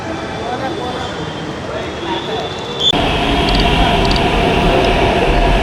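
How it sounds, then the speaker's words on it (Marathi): A metro train pulls into a station in Hyderabad, its loud rushing rumble surging in abruptly midway and holding steady, with faint background voices before it arrives. "आली आपली मेट्रो बघू शकता."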